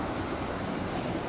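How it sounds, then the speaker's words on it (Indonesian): A small river in flood at Pampang, Keningau, rises suddenly to the top of its banks, its water rushing in a steady, dense roar with no breaks and no voices over it. "Naik air, naik. Sudah kuat tuh air naik."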